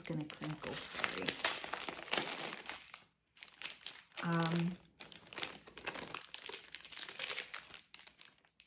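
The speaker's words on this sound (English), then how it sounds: "this is going to crinkle" Plastic packaging holding a set of color-coded stitch markers crinkles and crackles in bursts close by, interleaved with a person talking.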